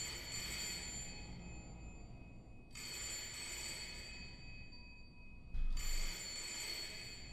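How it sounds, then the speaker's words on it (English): An old telephone bell rings in the horror video game Layers of Fear, three long metallic trilling rings separated by short pauses, clear and fairly close with no talk. "Why does it sound like it's ringing in my head?"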